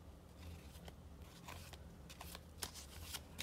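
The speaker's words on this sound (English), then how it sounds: "you just shuffle the cards like this" Playing cards being overhand shuffled by hand in quick, uneven riffling bursts, crisp papery flutters close up with no talking.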